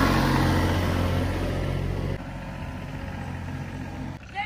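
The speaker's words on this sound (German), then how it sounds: "ich bring den Trecker in meine Garage jetzt" A tractor engine idling and rumbling as it is driven into a garage, a steady low drone that drops in level partway through, ending with a brief knock.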